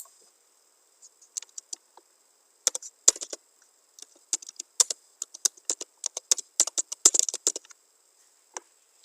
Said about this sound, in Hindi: आपको सिंपली यहाँ पे टाइप करना है, टेक्स्ट टाइप करना है।